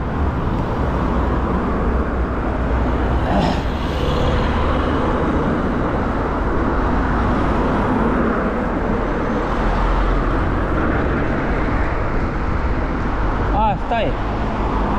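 Steady roadway traffic rumbles throughout at a city bus stop, with vehicles passing close by and a brief higher whine near the end.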